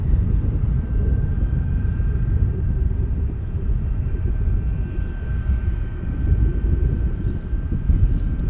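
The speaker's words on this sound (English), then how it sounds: "we've got taxiing 757 inbound here" A steady low jet rumble with a faint constant whine drones on, a Boeing 757 airliner taxiing slowly nearby at Salt Lake City airport.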